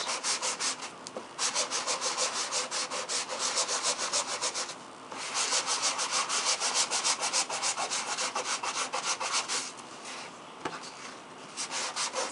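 A holiday-craft wooden leaf sanded by hand for a distressed look, heard as a continuous close rasping rub in quick back-and-forth strokes, broken by two short pauses, with no voices.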